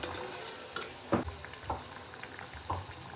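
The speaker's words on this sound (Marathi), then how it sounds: "दोन्ही साईडने छान कुरकुरीत सोनेरी रंग येईपर्यंत छान वडा तळून घ्यायचा आहे" Mung dal vada deep-frying in hot oil, a continuous bubbling sizzle heard up close with a few soft clinks and stirring pops, no voices.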